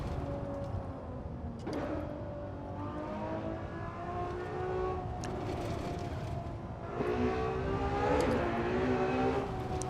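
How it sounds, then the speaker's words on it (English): A Ferrari 812 Superfast's engine revs and pulls while driving, its rising and falling tones sweeping upward through several gear changes, heard steadily from inside over road noise, with no talking. "the sound of the engine, the speed of the shifts"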